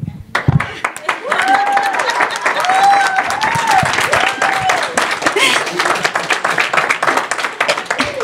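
Applause from a church congregation, a dense wash of clapping that swells and holds for several seconds, with a voice calling out over it and brief sung or shouted tones riding on top.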